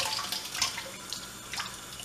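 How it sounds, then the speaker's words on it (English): Cold tap water runs steadily over snapper fillets in a bowl, a continuous splashing gush close up with no voices. "So you have it in the bowl and you're running cold water."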